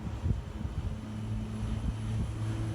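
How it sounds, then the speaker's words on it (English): A propeller airplane at an air show passes low over a house, a steady droning engine hum with a pulsing rumble that holds at moderate loudness throughout, heard from outdoors without any talk. "watching an airplane go over his house"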